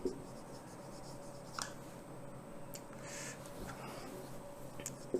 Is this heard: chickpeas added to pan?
no